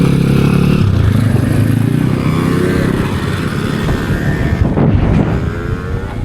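A motorcycle ridden by children outdoors, its engine droning steadily and close with wind buffeting the microphone, the revving shifting slightly near the end.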